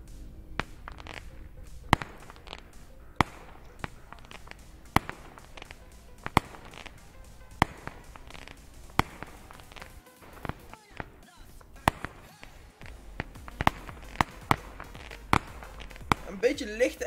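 A 49-shot firework cake fires a long series of sharp bursts popping at a steady rhythm, dozens of shots in a row, fairly distant with faint background noise between them.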